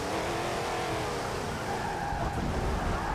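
In Forza Motorsport 7, the Hot Wheels Twin Mill prototype car with no ABS brakes hard, its wheels locking into a continuous loud tire skid over engine noise, steady from start to finish.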